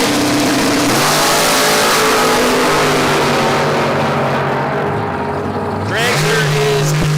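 A 1993 Mustang drag car with a wheelie bar revs hard at the starting line, a loud, sustained engine roar with a sharp throttle blip near the end, close and drowning out the background.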